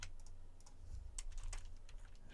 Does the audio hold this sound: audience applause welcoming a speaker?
no